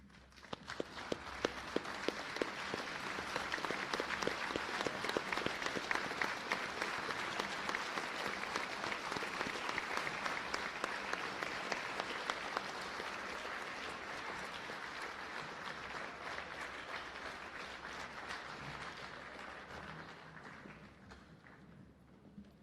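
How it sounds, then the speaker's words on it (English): At a school Veterans Day program, an audience applauds veterans with sustained clapping that swells, holds for a long stretch, then gradually thins and fades. "let us stand and applaud their strength and commitment to these United States of America"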